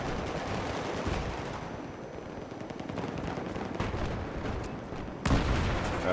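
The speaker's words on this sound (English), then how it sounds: "Let's try attacking this wall again to see if it requires more than 1 C4 brick to destroy." In Battlefield 3, C4 explosives detonate against a concrete wall: a single sharp blast bursts out near the end over a steady, fairly quiet background rumble.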